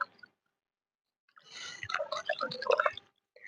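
Water used to wash flour dough is poured away, a short splashing, dripping burst lasting a little over a second after a quiet pause, close and moderately loud.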